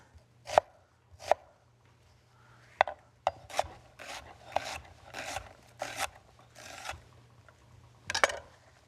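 Onion being cut with a knife on a cutting board while cooking a savory breakfast bowl, an irregular series of crisp close chops and scraping strokes, some quick pairs, with no voices.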